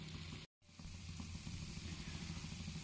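Batter frying on an oiled tawa over low heat, a soft steady sizzle that runs the whole time with one brief dropout near the start, close and fairly quiet.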